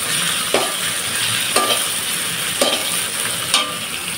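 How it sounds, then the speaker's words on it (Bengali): Onions browning in hot oil in a pan give a steady, loud sizzle, with a scraping stir roughly once a second, four strokes in all. "তো পেঁয়াজটা ভালো করে ব্রাউন করে ভেজে নেব"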